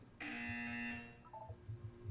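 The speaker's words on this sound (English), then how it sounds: "You will hear a buzzer." A single harsh electronic buzzer in the game Portal 2 sounds for about a second, then cuts off, leaving faint background noise.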